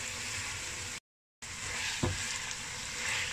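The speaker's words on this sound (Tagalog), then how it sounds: "ilalagay ko na itong chicken thigh na pinry ko kanina. Yan. Tapos, syempre, hahaluin lang yan." Fried chicken thighs sizzle in a hot pan as they are stirred, with a steady frying hiss, a brief cutout of silence and a single soft knock of the utensil against the pan midway.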